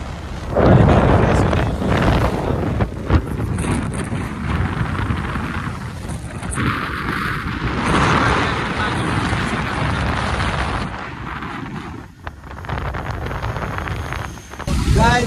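Strong gusty wind roars across the microphone outdoors on a trip through Chitwan, Nepal, a loud, continuous rumbling buffet that swells and dips over the whole stretch with brief lulls.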